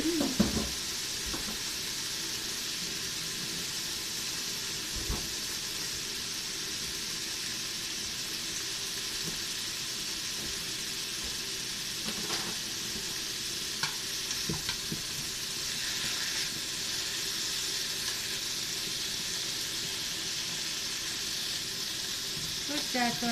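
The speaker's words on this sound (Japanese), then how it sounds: "そしてあとは炒めて" Onions and vegetables stir-frying in a pot for nikujaga, a steady loud sizzle with scraping stirs throughout, close and continuous with no talk.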